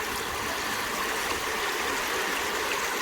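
Creek water pours through a gold prospecting sluice with a classifier flare, making a constant close rushing and trickling wash with no voices.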